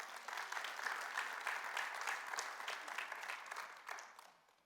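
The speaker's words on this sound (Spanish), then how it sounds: "Denle un aplauso a Dios por esa verdad." A church congregation claps in warm applause that swells quickly, holds for several seconds, and tapers off at the end. The clapping sounds somewhat distant and roomy, with faint crowd murmur under it.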